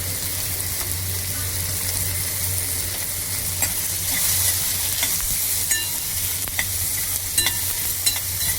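Spices with turmeric and red chili being sautéed in a pan for a sweet-sour Maharashtrian varan, a steady soft sizzle with scraping stirs and light clinks, no talk.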